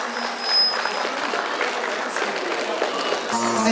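Wedding guests applaud in a steady patter of clapping, moderately loud and continuous, with a brief change in sound near the end.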